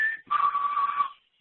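A single sustained human whistle used as a signal for communication, not birdsong: a short opening pitch, a brief break, then a longer steady tone of about a second, close and clear against silence.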